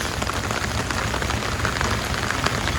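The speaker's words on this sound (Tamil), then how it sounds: "திடீர்னு ஒரு மழை" A sudden rain shower in Alappuzha, Kerala, near the Vembanad Lake backwaters, falls as a steady, dense hiss of drops drumming on surfaces. It is loud and even throughout, with no voices.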